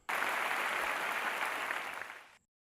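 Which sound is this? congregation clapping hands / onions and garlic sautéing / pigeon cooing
congregation clapping hands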